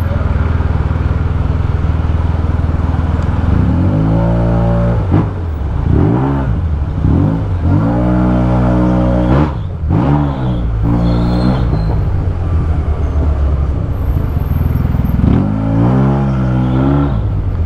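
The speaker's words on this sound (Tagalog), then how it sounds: "yung tunog niya parang kargadong scooter talaga eh" A Yamaha TMax Techmax scooter fitted with a Termignoni full-system aftermarket exhaust revs and accelerates loudly up close, its engine note rising and falling in repeated surges with deep rumbling between pulls.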